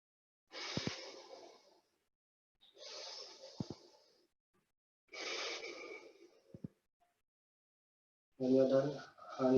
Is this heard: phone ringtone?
no